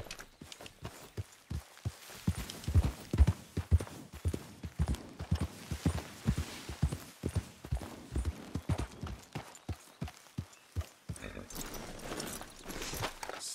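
Horses walking in the video game Red Dead Redemption 2, hooves clip-clopping in a steady uneven stream of close, crisp thuds over several seconds, with no voices.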